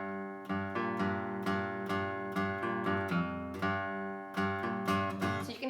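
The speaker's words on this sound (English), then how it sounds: "So you can hear that the notes are ringing over each other." A guitar plays a riff of picked notes in a steady rhythm, each new attack sounding while earlier notes keep sustaining and ringing into one another, close and clear with no talking.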